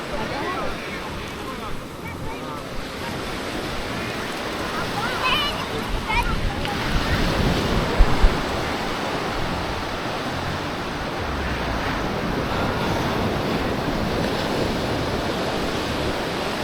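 Ocean surf at Praia dos Ingleses beach in Florianópolis, a steady, fairly loud wash of breaking waves with wind buffeting the microphone throughout.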